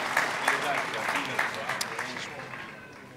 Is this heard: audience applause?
yes